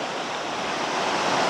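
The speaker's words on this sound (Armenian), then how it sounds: "անձրևը ուժեղացավ" Heavy rain pours steadily onto a riverbank under a willow tree, a dense, unbroken wash of hiss that swells slightly louder toward the end, with no voices.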